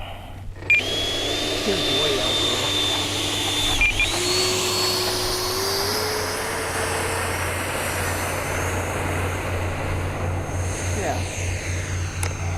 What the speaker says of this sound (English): All right, FMS 70mm F-18, let's take off